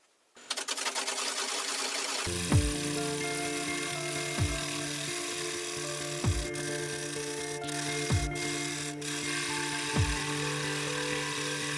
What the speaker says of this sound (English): I'm just going to take that off there with a bowl gouge